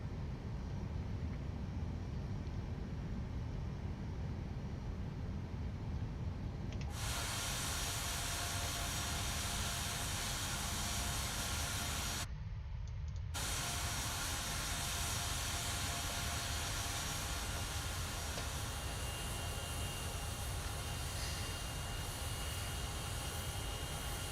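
Steady, loud engine drone of an airliner taxiing in Microsoft Flight Simulator 2020, running continuously with a brief cut-out partway through and no talking.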